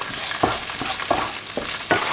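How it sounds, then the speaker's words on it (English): Onion for egg fried rice sizzles in a hot pan, a bright close hiss broken by regular stirring scrapes roughly every half second. "So 1 small onion going in"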